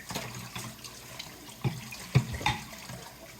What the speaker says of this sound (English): I'm actually going to wash a little bowl